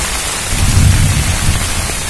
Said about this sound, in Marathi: घडघडत आहे मोठ्या मोठ्या